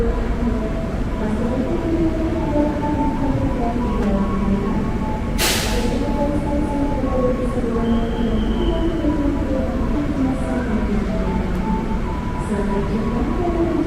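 An INKA-built KFW electric commuter (KRL) train on the Palur–Yogyakarta line rumbles and hums steadily departing from track 4, its motor tones rising and falling as it pulls away, with a brief hiss of air midway.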